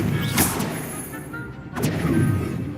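Two sharp Confringo blasting-spell explosions in Hogwarts Legacy, one early and one late, each a loud crackling burst with a rumbling tail over steady background noise.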